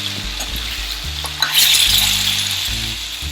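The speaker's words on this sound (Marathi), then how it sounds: "आता हे छान परतून झालेलं आहे आपलं." Village-style chicken sautéing in a pan with green masala, a steady close sizzle and hiss of frying with a brief stir and clink partway through.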